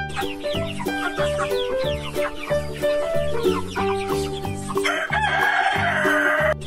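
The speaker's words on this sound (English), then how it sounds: "Chicken." A chicken clucks and crows over a bouncy children's song, clear repeated calls mixed into the music at close range.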